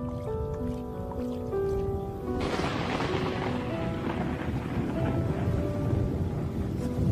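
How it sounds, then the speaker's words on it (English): Heavy rainstorm over open African lion country, a dense steady roar of rain on the ground with low rumbling thunder rolling underneath, loud and continuous throughout. "The rainstorm brings healing and relief to the land and the lions."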